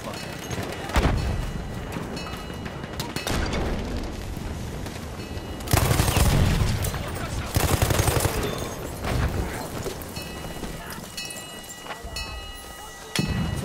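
The MG14 Parabellum machine gun in Battlefield 1 fires in a dense, continuous rattle of rapid shots amid booming battlefield noise and explosions, loud and close throughout, with heavier bursts in the middle.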